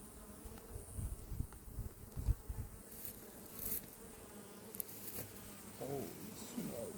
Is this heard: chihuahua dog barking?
no